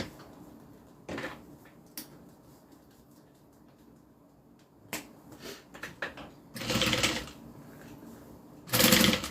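Sewing machine stitching a small zip-around leather wallet with a seam guide, sparse clicks and short taps early, then two loud bursts of fast running stitches near the end, close up with no voices.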